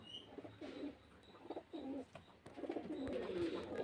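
Domestic pigeons coo softly in several short, throaty bursts, close by but fairly quiet against a faint background hiss.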